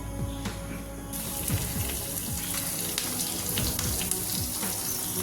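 Chicken pieces frying in hot coconut oil, a continuous loud bubbling sizzle that swells once more pieces drop in, with scattered crackles and pops throughout.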